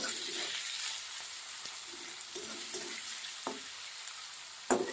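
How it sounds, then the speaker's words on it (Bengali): Salted onions frying in a pan while being stirred: a close, constant sizzle broken by several soft scraping and clinking strokes of the spatula, with no talk. "অল্প লবণ দিয়ে দিলাম, দিয়ে ভালো করে নাড়াচাড়া করে নিচ্ছি।"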